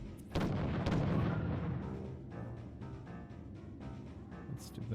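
Cannon fire from ships in Treasure Planet: Battle at Procyon, a heavy close blast followed by a run of rapid, rumbling shots fading into repeated thuds, with a final sharp burst.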